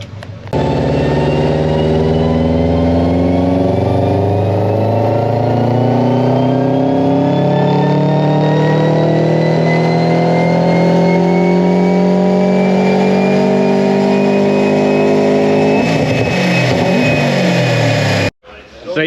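A Subaru with a Ken Block-inspired wrap revs hard on dyno rollers, the engine note climbing steadily under load for many seconds before cutting off sharply near the end, loud and close.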